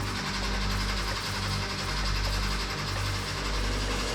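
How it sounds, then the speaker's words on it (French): The starter motor of a 1982 Porsche 911 Targa cranks the flat-six engine in a steady rhythmic whirring churn, repeating pulses over a low rumble, fairly faint and alone. "Je lance le démarreur."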